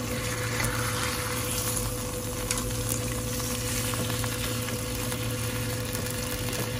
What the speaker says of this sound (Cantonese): 用慢火煎咗1分鐘